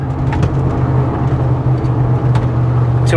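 A Ford F-150 pickup drives along, its engine hum and road noise steady and close from inside the cab, with a faint shift in tone as the transmission downshifts.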